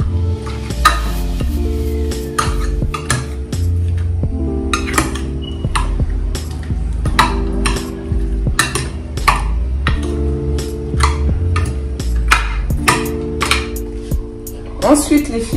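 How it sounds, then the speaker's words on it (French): A utensil scrapes and clinks steadily against a pan while potato gratin ingredients with garlic are stirred, loud and close. A low, constant sizzle and hum sits underneath, with the rhythmic strokes repeating throughout. "mélanger le tout."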